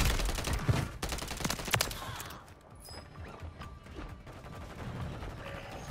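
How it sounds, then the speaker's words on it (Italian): Gunfire in the Call of Duty Warzone video game, a burst of sharp shots in the first two seconds, then quieter scattered game noise and faint distant pops. "Mi sparano!"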